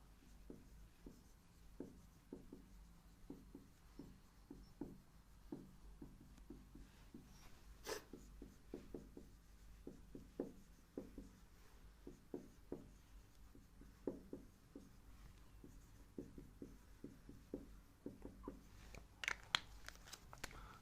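Pen or pencil writing out a geometry proof on paper, faint, quick scratchy strokes in an uneven rhythm, close up and quiet.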